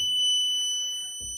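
Continuous high-pitched electronic wail of a CarProtec alarm fitted to a leisure vehicle, held steadily and fairly loud for over a second, with a low thump near the end.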